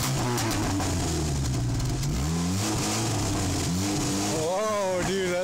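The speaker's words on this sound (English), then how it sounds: "Listen to this exhaust sound, bro. Rev it!" A car exhaust revs loudly in bursts, pitch rising and falling, with people talking and shouting over it.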